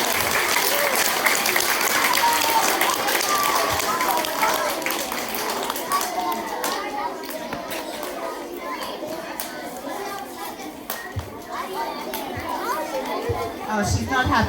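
Children and adults clap at a school assembly, a steady patter of applause running the whole stretch with lively chatter and kids' voices mixed through it.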